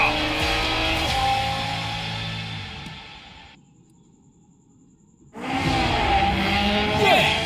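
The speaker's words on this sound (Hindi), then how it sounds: "ये तो कॉर्नर पे स्पीड बढ़ा रहा है। इम्पॉसिबल। ये ड्रिफ्ट कर रहा है, वो भी इस स्पीड पे" A race car drifting at high speed around a corner, with a loud, sustained engine roar and tire noise that drops out briefly midway before returning just as strongly.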